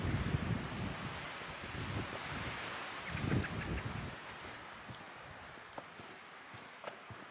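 Gusty, cold wind on an exposed Pacific Crest Trail ridge roars against the microphone for several seconds, then eases off, leaving scattered footsteps crunching along the trail.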